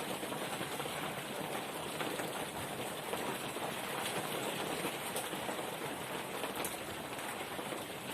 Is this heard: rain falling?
yes